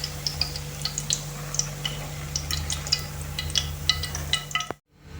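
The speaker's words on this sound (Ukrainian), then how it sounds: "І смажимо всі інші наші смаколики." Khvorost pastry strips fry in hot oil with a steady low sizzle, punctuated by frequent light clinks and taps of a utensil, ending in a sudden cut to near silence.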